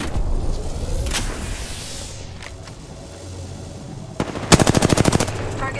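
Machine-gun fire from the video game Apex Legends, a few scattered shots followed by a fast, sharp burst of rapid rounds near the end, over quieter game ambience.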